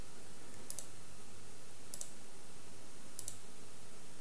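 Three sharp mouse clicks spaced about a second and a quarter apart, faint and isolated over a low, steady room hum, as accordion blocks on a web page are opened one after another.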